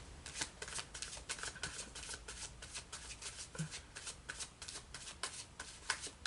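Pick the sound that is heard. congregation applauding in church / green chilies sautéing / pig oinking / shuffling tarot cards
shuffling tarot cards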